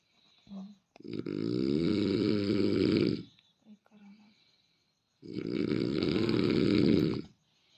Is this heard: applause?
no